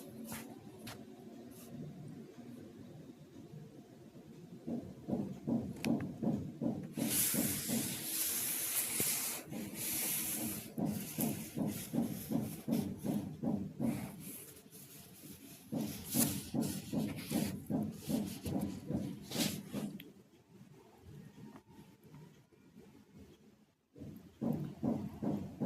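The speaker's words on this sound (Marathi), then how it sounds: "कोरडे साहित्य सगळे एकत्रित करून छान मिक्स करून घेऊया." Dry flour ingredients for methi paratha dough being mixed by hand in a bowl, a steady rhythmic rubbing and scraping that runs close and alone, with no talk.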